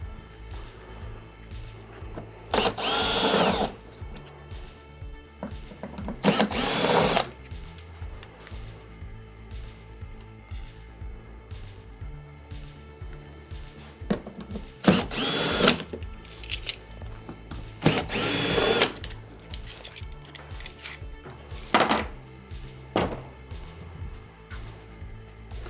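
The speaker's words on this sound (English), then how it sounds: "I'm just going to use my, my drill to pull those out" A power drill removing metal screws from a vending machine cooler whirs in several short bursts, spaced apart with quieter handling and clinking between runs.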